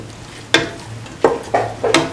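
Garam masala spices stirred into cauliflower, potato and coconut milk rice in a pan, with four distinct scraping strokes at uneven intervals over a faint, steady background sizzle.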